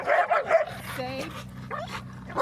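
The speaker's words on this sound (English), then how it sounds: "she starts barking and then he reacts" Several dogs at a dog park, with yips and short whimpering barks mixed into a noisy stretch alongside people talking nearby.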